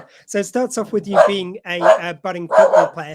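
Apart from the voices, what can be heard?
dogs barking in the background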